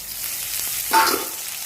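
Onions and chopped tomatoes sautéing in a pan, a steady close frying hiss with a brief swell of louder sizzling midway.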